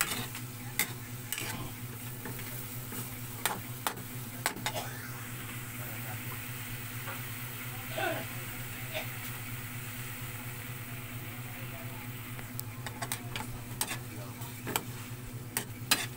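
Vegetables and chicken breast boiling in a pot while being stirred, with soft scraping clicks and a steady bubbling hiss throughout.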